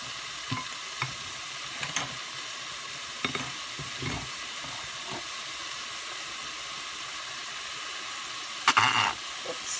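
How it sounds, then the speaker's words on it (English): Grated garlic stirred in a hot pan for a chicken curry, a steady frying hiss broken by a few soft scraping strokes and one sharper clatter near the end, no voices. "I'm going to give that a nice stir."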